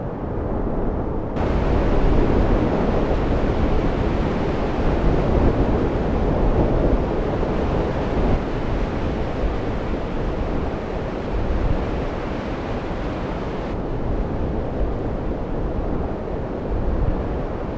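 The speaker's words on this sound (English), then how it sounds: "It is blowing an absolute gale." Storm Jocelyn gale wind and ocean waves on the Isle of Harris, a loud unbroken roar of surf and heavy wind buffeting the microphone, constant and close throughout with no voices.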